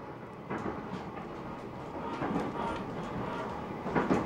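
A down passenger train on a snowy Gunma–Niigata line runs toward a long tunnel and an underground station, heard from inside the carriage as a steady moderate rumble with faint, irregular wheel clicks.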